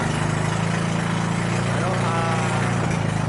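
A new engine on a fishing boat runs steadily at sea, its even droning hum filling the scene up close while people talk over it.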